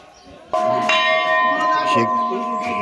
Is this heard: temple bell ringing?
yes